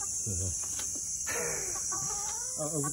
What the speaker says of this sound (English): We have 10 chickens now.